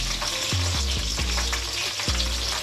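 Potatoes fry in hot oil with a dense, constant sizzle close up, joined by a few soft clunks and scrapes as they are moved around in the pan.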